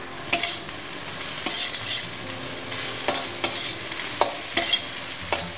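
Rice stir-fried in a pan with chilli oil and spring onions gives a steady sizzle, while a spatula scrapes and clatters against the pan at regular intervals.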